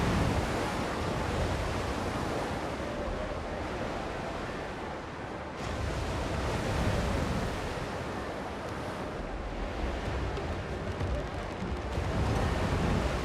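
Ocean surf and rolling waves from a pirate video game set in the Caribbean, a loud, steady broadband wash of water that swells and dips throughout with no clear breaks.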